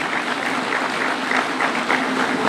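An audience at a Kenyan political gathering with the president bursts into sustained applause, dense clapping from many hands heard up close and continuing steadily without a break.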